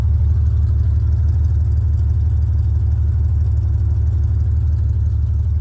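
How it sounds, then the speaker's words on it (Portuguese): A Chevrolet Opala with a race engine idles with a deep, steady rumble through its 6x2 exhaust, which ends at the differential, giving a loud, continuous, aggressive low growl with no talking. "O escapamento dele é um 6x2, né? E ele morre aqui no diferencial deixando esse ronco"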